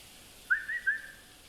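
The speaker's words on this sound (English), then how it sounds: "The only thing she did was whistling" A short whistled tune of three quick rising notes from the video game Ghost of Yotei, clear and fairly close, over a quiet background.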